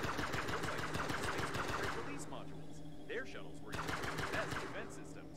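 Rapid gunfire in Breathedge hammers at turrets in two long, evenly spaced bursts separated by a short lull, close and loud, with someone talking over the shooting.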